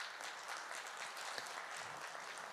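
Audience applause at a book presentation in a mosque hall, a steady dense patter of many hands clapping at moderate distance, sustained evenly throughout without voices.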